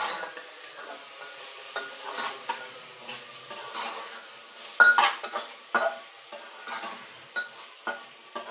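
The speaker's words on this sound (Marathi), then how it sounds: "वाटाणा पण टाकून घेणार आहे आता हे सगळं असं थोडंसं परतून घ्यायचं चांगलं" Potatoes, peas and vegetables being sautéed and stirred in a pan for pav bhaji, soft sizzling under repeated spatula scrapes and taps against the pan, with a few louder knocks.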